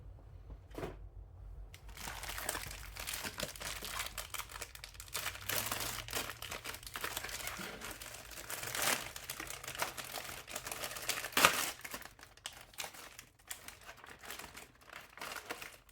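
Inner plastic packaging of an MRE, Creamy Spinach Fettuccine menu 14, is torn and unwrapped with continuous close crinkling and rustling, plus sharp crackles and a few tearing bursts, with no talk.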